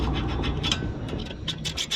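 A 15 mm wrench tightens the axle nut on a Subaru front axle, giving short close metallic scratching and clicking bursts over a steady low background hum, with no talking.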